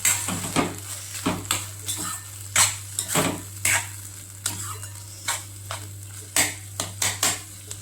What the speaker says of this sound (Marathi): व्यवस्थित एकजीव करून हलवून घ्यायचं.